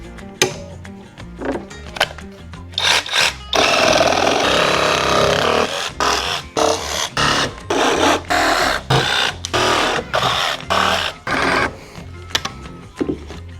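A power saw buzzes through wood in rapid choppy bursts with one longer continuous cut, loud and close, no voices.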